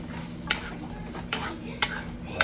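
Chopped onion and green pepper frying in a pan, with a soft steady sizzle broken by four sharp scraping stirs of a utensil against the pan, close and fairly quiet.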